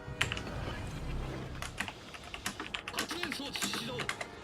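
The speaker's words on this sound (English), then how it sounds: "you can see me typing in chat" Rapid keyboard typing to chat during a World of Warships naval battle, clicking in quick bursts beneath game sounds and a talking voice.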